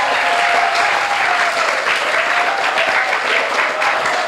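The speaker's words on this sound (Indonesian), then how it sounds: "Tepuk tangan dulu." Sustained applause from a school audience fills the whole stretch, a dense, steady wash of many hands clapping at close range with no pauses.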